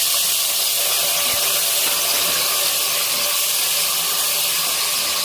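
Potatoes dropped into hot oil with kalonji seeds in a pan, giving a steady, bright sizzling hiss that stays loud and even throughout, with no talk over it.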